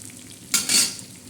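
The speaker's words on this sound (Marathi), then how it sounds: "आता आपण हे सुकट आणि कांदा लाल करून घेणार आहोत" Dried fish and onion frying in a pan: a sudden short burst of close sizzling and stirring that rises, holds briefly and fades within about half a second.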